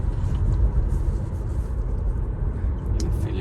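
A car accelerates hard, heard from inside as a loud, steady low rumble and engine roar that holds throughout with no talk.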